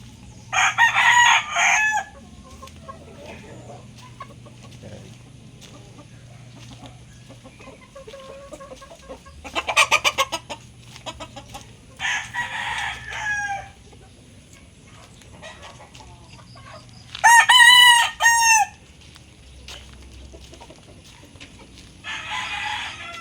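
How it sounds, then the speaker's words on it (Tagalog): Roosters crow loudly in several bursts, with hens clucking in between against a faint background hum, as the chickens are sheltered ahead of a typhoon. "Nagsisilong tayo ng mga manok."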